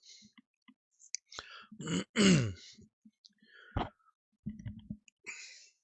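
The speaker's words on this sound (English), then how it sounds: "Sorry about clearing my throat there." A close, gruff throat clearing in a couple of rough bursts, with small mouth clicks and breaths around it and no speech.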